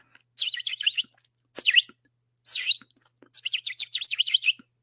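Birds chirp in four bursts of rapid, high-pitched tweeting separated by short silences, close and clear with no other sound.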